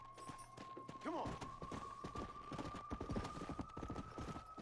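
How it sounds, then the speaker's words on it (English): A horse runs in the video game Red Dead Redemption: Undead Nightmare, with a steady patter of hooves over a held musical tone and a brief whinny-like rising call near the start. "Here comes my horse."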